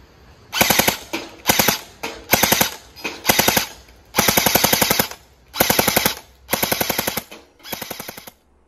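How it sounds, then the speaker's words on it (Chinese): LDT 416 3.0 Plus gel blaster firing at a 30 m test range, eight rapid full-auto bursts of sharp mechanical shots, each about half a second long and separated by brief pauses, loud and close. "刚刚啊我们在影片中看到的就是 Plus 416 Plus 版30公尺的射击"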